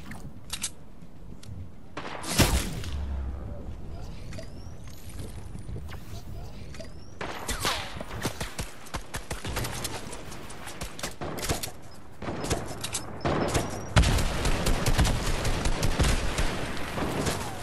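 Sniper gunfire and other shots in Fortnite, a scattered series of loud sharp cracks and bursts over a long stretch, mixed with game noise and people talking.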